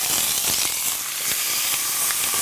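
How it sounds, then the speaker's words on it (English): Chicken laid skin side down in a hot cast iron pan with a little oil, giving a steady, close, continuous sizzle and hiss with faint crackles and no talking. "Hear that sizzle? That's what you want to hear."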